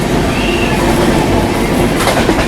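A passenger train with a Vistadome coach runs between Visakhapatnam and Araku, heard from on board as a loud, constant rumble and rush with a brief brighter rattle near the end.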